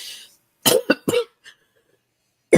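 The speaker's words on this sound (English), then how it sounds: "Perfect timing, cough" Several close, harsh coughs in a quick cluster, followed by a pause and one more cough at the end.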